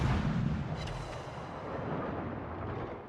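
Naval guns roar from a warship in World of Warships, a low rumbling barrage with a heavy boom early on, then a long fading roll of distant fire.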